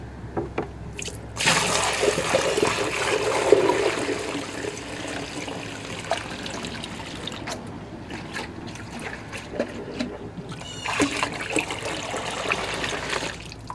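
Dirty cleaning water from a deep clean of a house pours out in a loud, splashing rush that trails into trickles, followed by a second shorter gush near the end.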